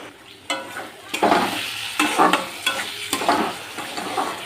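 Spice paste fries in oil for a tangra fish curry, a loud sizzle rising and falling as it is stirred, with repeated scraping strokes and knocks of the spoon in the pan.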